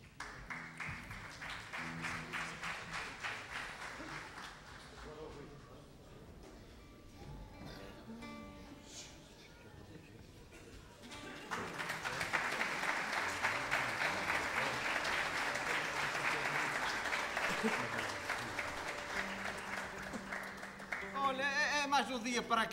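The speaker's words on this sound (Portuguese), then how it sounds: "Uma salva de palmas para eles." A crowd claps and cheers for a folk dance group at a Carnival bailinho performance, first alongside music and voices, then swelling into a louder, sustained burst of applause before singing resumes.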